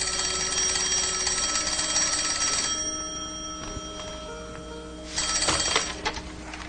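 A telephone rings in a home, a bright bell-like trill repeating near and loud, pausing briefly before ringing again.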